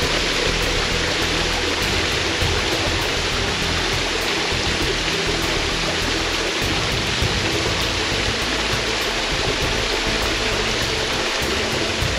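Rushing water from a waterfall and stream along a hiking trail on the way to Rat-a-tat hut: a steady, loud, broadband roar that stays constant throughout, with no voices.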